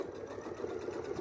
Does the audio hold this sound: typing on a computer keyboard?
no